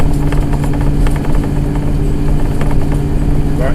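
A motorhome cruising down the road, its engine droning steadily with constant road and wind noise close up and loud throughout.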